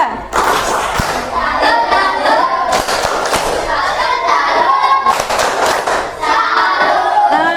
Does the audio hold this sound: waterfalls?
no